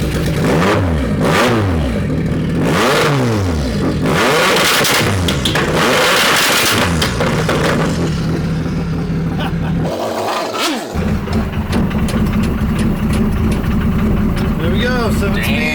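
A 1991 Ford Escort Cosworth Group A rally car engine with a side exhaust revs hard in repeated rising and falling bursts, loud and close, then settles into a rough, steady idle, with voices talking over it.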